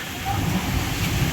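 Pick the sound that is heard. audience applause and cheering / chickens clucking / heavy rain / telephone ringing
heavy rain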